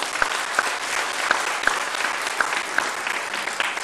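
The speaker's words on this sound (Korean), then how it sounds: "목사님 모실 때에 뜨거운 박수로 환영의 박수를 올려드리겠습니다" A church audience gives a warm round of applause to welcome a visiting pastor at a revival meeting. The clapping is dense and steady, with a few sharper nearby claps standing out.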